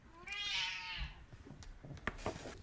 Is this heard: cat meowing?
yes